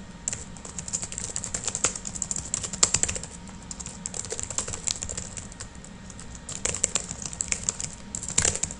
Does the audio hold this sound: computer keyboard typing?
yes